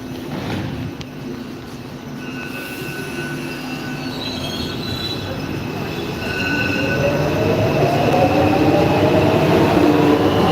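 A Warsaw metro train pulls away with a rising motor whine and squealing wheels, rumbling louder over the clip with no talk.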